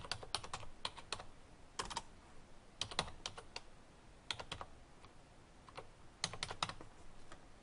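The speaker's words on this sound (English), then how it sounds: "I'll retype it." Keys rattle on a computer keyboard in quick, uneven bursts of typing, close and clear, with short pauses between clusters of keystrokes.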